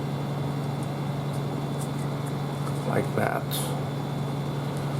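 An electric room fan runs steadily throughout as a constant close hum, with a person briefly speaking over it partway through.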